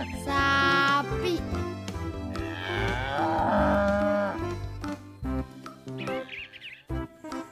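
A toy cattle figure plays a cartoon cow mooing sound, a couple of drawn-out moos layered over bright electronic music and chirpy effects, loud and close.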